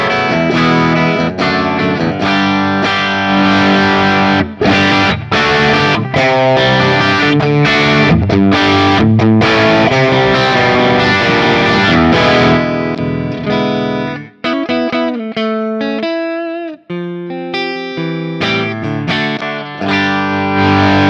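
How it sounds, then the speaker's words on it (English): Electric guitar with Seymour Duncan '78 pickups played through analog stereo chorus, delay and reverb, with lush shimmering chords and ringing repeats, loud and continuous before thinning out near the end. "So I've added chorus, the analog stereo chorus, and the delay, and the reverb."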